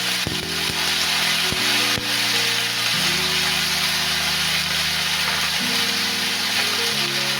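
Potatoes, eggplant, green chilies and peas sizzle in hot oil in a pan for a Bengali fish head curry, a steady close hiss running throughout beneath sustained background music tones.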